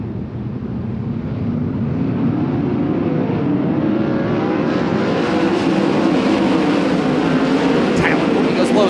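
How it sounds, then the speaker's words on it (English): Pack of 22 sprint cars roaring around the dirt oval at Attica Raceway Park during the Ohio Sprint Speedweek opener, a steady loud engine drone swelling and passing, with a race announcer talking over it. "22 cars on the track with 18 laps to go in the 2nd annual Burt and Bridget Emmett Classic"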